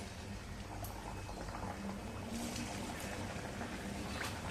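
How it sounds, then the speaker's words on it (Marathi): Faint, steady bubbling and sizzling of pumpkin gharge dumplings deep frying in hot oil, a continuous low crackle with a few sharper pops. "आता तेलामध्ये आणखी गारगे घालूया आपण तळण्यासाठी."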